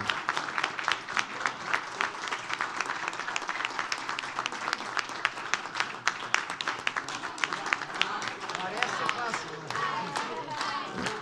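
A crowd's sustained, lively applause at a 35th-anniversary show for a band: thick, continuous clapping for about eleven seconds, with voices mixed into the din.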